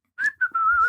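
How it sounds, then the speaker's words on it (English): A single person whistles a short tune, a few clear sustained notes rising then settling, close and alone. "Because you got to whistle while you whittle"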